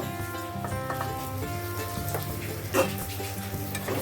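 Turmeric powder is stirred into a tomato masala frying in a pan for veg soya pulao, a steady close sizzle with soft scraping strokes of the spoon running throughout.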